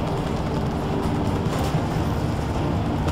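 A train rolls along in the video game Crysis Warhead, a steady, dense low rumble with rattling and clatter that stays constant throughout, close and fairly loud, with no voices over it.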